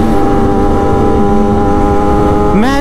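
A Kawasaki ZX-10R superbike engine drones loud and steady up close, then revs sharply upward right at the end.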